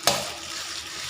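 Curry paste and garlic stir-frying in a pan for Thai spicy catfish stir-fry, a brief sharp hiss as ingredients hit hot oil, then a steady soft sizzle without talk.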